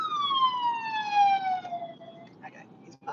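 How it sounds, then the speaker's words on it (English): An ambulance siren sounds close by on a road, a clear wailing tone gliding steadily downward in pitch as the vehicle passes, then fading into traffic noise. "But the ambulance is on my right shoulder."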